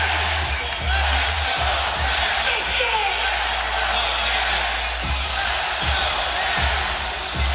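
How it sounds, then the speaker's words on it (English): A basketball arena crowd on its feet before a Cavaliers home playoff game, a dense, steady roar of many voices with thumps and bounces underneath, while announcers' speech runs over it. "the crowd on its feet"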